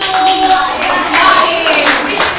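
A sixth-grade classroom in Indonesia breaks into a short burst of clapping from students, close and fairly loud, with a faint whistle-like tone and light voices mixed in.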